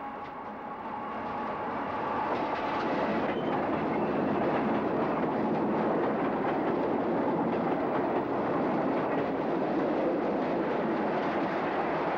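A Tait suburban electric train on Melbourne's Sandringham line rumbles, swelling over the first couple of seconds into a loud, steady roar of wheels and carriages with faint rhythmic rail clatter, and no voices.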